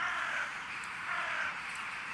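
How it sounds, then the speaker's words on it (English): Harsh raven cries from a video game's sound effects, two drawn-out, rasping calls at moderate distance, fairly faint, with no talking. "That music, I like the bird sounds."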